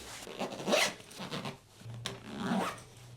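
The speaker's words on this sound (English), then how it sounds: "And now we can start compressing it with the compression zipper." A compression zipper rasps along in several short strokes, up close and fairly loud, as a stuffed fabric packing cube is squeezed shut.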